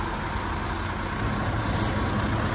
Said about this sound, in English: we're gonna try to bring in the other truck.